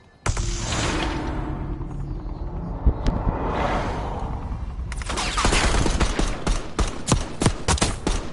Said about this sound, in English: I'm shooting through walls around this bitch, boy.